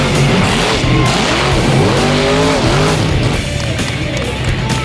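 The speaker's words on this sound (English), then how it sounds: "four-time European monster truck champion, the UK's very own Bigfoot" Bigfoot, the UK's four-time European monster truck champion, performing at Truckfest: loud engine revving with rising and falling pitch sweeps and tire squeal, close and continuous over crowd ambience.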